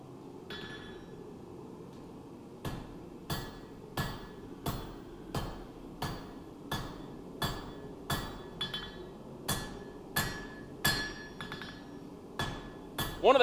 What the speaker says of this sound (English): he's going to start forging the tip into this blade